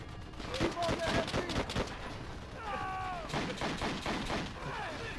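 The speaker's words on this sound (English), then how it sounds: "They shoot through the damn wood!" Bursts of machine-gun and rifle fire rattle in a World War II shooter game, Call of Duty: World at War on the Wii, repeated volleys under excited players talking over the action.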